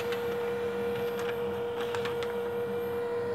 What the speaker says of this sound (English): Yes, it is printing.